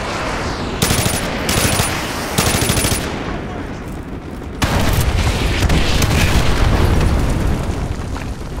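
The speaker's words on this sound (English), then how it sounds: "Fire mission received. Artillery inbound." Artillery strike explosions in Call of Duty Modern Warfare 2, loud booming blasts with crackling bursts in several waves, the heaviest barrage arriving in the latter half.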